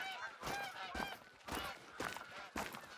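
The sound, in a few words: goose honking in the Hirschfelden map of a hunting video game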